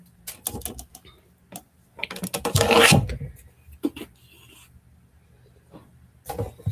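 A paper trimmer slices through paper in short rasping strokes, with a longer louder scraping cut near the middle and a few quick bursts around it, fairly close.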